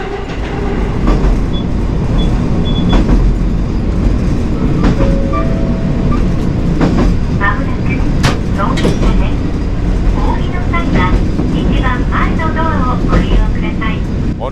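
The interior of a moving train on Japan's Rumoi Main Line carries a steady, loud low rumble with faint rattles and clicks, while a voice talks over it.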